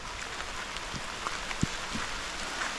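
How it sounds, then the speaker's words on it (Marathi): Steady rain falls around a small house in the Konkan countryside, a soft even hiss with a few distinct drips and patters on a surface, faint and continuous throughout. "पाऊस वाढला आहे पुन्हा"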